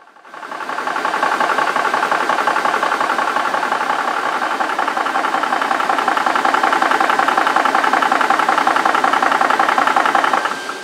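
An Air Venturi Nomad II air rifle compressor runs with a loud, steady mechanical drone and rapid rhythmic knocking, starting up abruptly and holding constant, then trailing off at the very end.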